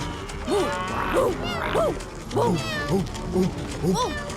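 A close voice imitates a cat, giving about six loud, short, rising-and-falling meow-like cries in an uneven run with brief gaps between them.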